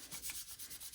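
A polymer clay coaster rubbed down by hand in quick, even back-and-forth strokes, a soft close sanding swish repeating about eight times in a second.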